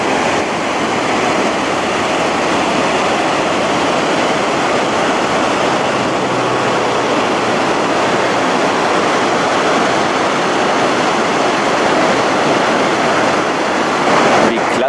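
Rushing river water tumbling under a bridge with rising spray, a loud, continuous broadband roar that stays steady from start to finish.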